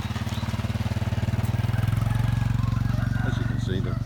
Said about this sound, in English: I'll wait till the motorbike goes past.